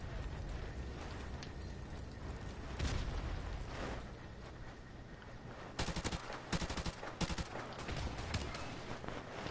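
Rapid bursts of video game gunfire, a player spamming the trigger in an online shooter match, with dense overlapping shots building in the second half, loud and continuous over a steady game background.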